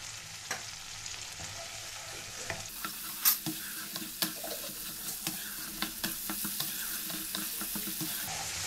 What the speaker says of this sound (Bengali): আমি অল্প পরিমাণে জল দিয়ে দিয়ে মশলাটাকে একটু কষিয়ে নেব।